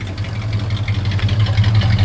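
A 1968 Cadillac DeVille convertible engine idles steadily up close through a regular muffler, a deep low rumble with a light mechanical clatter on top, running continuously with no voices.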